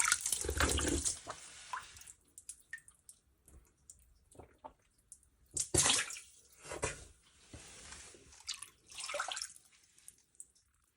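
Spring water on Vedal hill splashes and gushes in uneven bursts, close by, with trickling and dripping between the louder surges.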